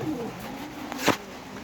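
Pigeons in a loft give a soft, low cooing close by, with a brief flutter or rustle partway through; no one speaks.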